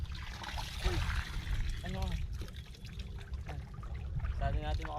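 Water poured and splashed out on a fishing boat at sea, a soft trickling and sloshing under the steady hum of the boat, with people talking over it.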